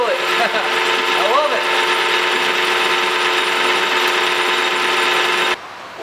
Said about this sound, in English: Lathe doesn't even feel it.